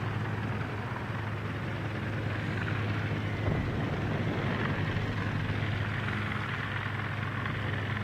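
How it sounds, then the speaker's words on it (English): Carrier aircraft from the Hosho in World of Warships drone overhead with a steady propeller engine hum, moderately loud and continuous over low game ambience. "Oh wait, no, these are the Hosho's planes."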